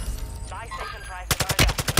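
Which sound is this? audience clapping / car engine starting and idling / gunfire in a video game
gunfire in a video game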